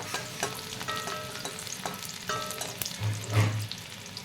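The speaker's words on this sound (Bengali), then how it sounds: "রসুনটা একটু ভেজে নেব।" Chopped garlic frying in oil in a pan for chili chicken: a close, steady sizzle with occasional stirring scrapes and soft clinks, with no talking.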